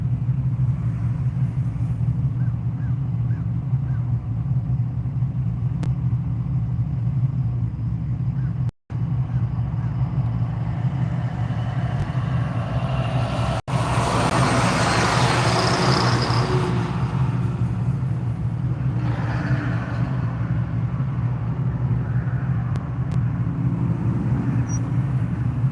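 Cars, trucks, SUVs and vans roll past at a hot rod power tour event. Engines give a continuous low rumble, with a louder pass building midway and some distant traffic noise around it.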